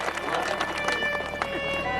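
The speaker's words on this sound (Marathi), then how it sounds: "अनिल भाऊसाठी टाळी वाजवता जोरात एक टाळी झाली पाहिजे" Audience clapping loudly at a Swami Samarth religious katha, dense rapid hand claps from a crowd, mixed with a voice speaking throughout.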